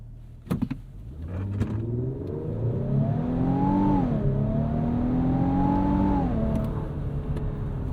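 A 2025 Infiniti QX80 Autograph SUV engine revs up from a stop, pitch climbing through two gear shifts as it accelerates, heard from inside the cabin with no talking.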